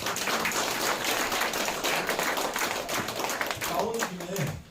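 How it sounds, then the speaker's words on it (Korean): Audience clapping at a Korean art forum's general meeting of officers, a steady patter of hands that thins out near the end as a voice begins. "여러분들이 좀 큰 박수 부탁드리겠습니다"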